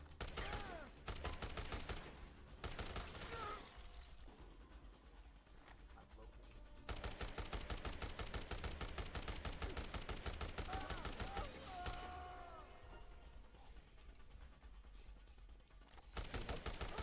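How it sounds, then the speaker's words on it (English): Game gunfire in the zombie game Dead Rising Deluxe Remaster rattles in dense, nearly continuous bursts throughout, with shouting voices and game sounds mixed underneath. "Thank you for shooting that single zombie."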